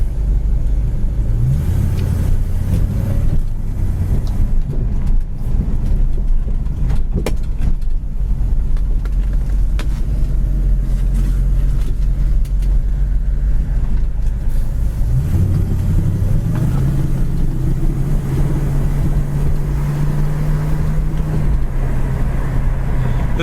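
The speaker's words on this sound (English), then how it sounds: "This car drives great." A 1973 Ford Mustang driving on the road, with a loud, steady low engine drone and road rumble throughout, the engine note rising and settling as it shifts, heard from inside with no talk.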